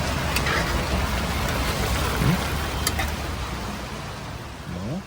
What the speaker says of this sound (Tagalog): umuulan dito sa Dasma.